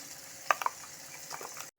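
Smooth spice paste dropped into a pan of frying potatoes and cauliflower, a few quick sputtering clicks and soft sizzle over a steady low hiss, ending abruptly.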